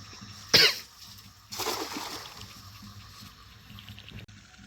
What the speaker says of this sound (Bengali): আমার তো প্রচুরই ঠান্ডা লাগছিল, আর কাশিও হচ্ছিল